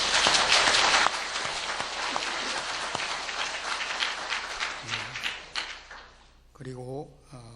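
Congregation applauding during a year-end Sunday church service, strong clapping at first that thins and fades over several seconds, with a voice speaking near the end.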